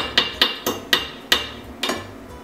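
A rock-hard, badly made churro knocked against a hard surface, giving seven sharp, hammer-like raps at an uneven pace, close and distinct with short pauses between.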